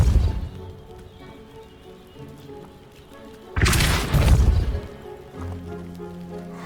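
A Depulso spell in the Hogwarts Legacy video game blasts open a blocked stairwell: a single loud burst of crashing debris after a quiet ambient hum, fading into a low lingering rumble.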